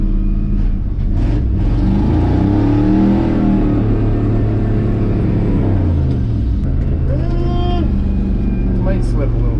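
A 1984 Chevrolet K20 farm truck revving hard while spinning both tires, a loud continuous engine roar with rising and falling pitch, with people talking over it.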